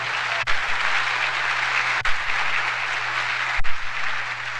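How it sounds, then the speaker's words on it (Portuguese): Church congregation applauding loudly and steadily at a state convention service, a dense, continuous wash of clapping with a few sharper bursts, no voices over it. "Você pode aplaudir Jesus bem forte."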